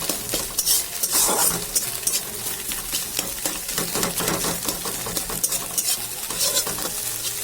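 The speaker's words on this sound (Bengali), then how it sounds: "আমি ডিমটাকে তুলে রেখে সবজিগুলো একসাথে সব ভাজা করবো।" Vegetables fry in a pan for chow mein while a spatula stirs and scrapes in quick, busy strokes over a steady sizzle, close and loud, with no talking.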